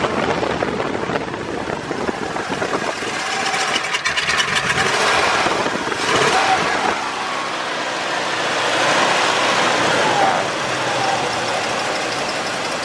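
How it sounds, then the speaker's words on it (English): A 1978 Ford Thunderbird with a modified 351 V8, Edelbrock carburetor and Holley, idles unevenly in a steady close rumble that sags and fades as though about to stall. "This is a 1978 Ford Thunderbird. It has a 351 modified in it with a Edelbrock carburetor and a Holley."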